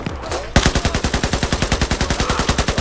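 A sustained burst of automatic machine-gun fire in Battlefield 4 runs as a rapid, steady rattle of evenly spaced shots, loud and close, after a short quieter lead-in.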